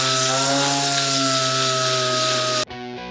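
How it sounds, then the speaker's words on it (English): A steady motorized drone with a strong humming tone as primer on a car body panel is sanded down over a high spot, holding loud and even before cutting off sharply near the end. "we have to get in there and sand that out"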